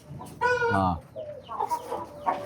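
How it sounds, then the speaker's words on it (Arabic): A chicken clucks loudly up close in a burst of harmonic calls, followed by quieter clucking and muffled voices in the background. "انا وقفت هنا عند الدجاجه دي"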